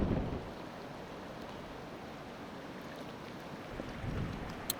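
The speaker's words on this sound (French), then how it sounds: "Il y a beaucoup de vent à notre gauche." Faint, steady wind rushes past with a low rumble of water beneath a sea kayak on Georgian Bay.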